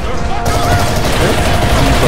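Rapid gunfire rattles in The Chronicles of Riddick: Escape From Butcher Bay, a dense, loud burst of shots running continuously for about two seconds.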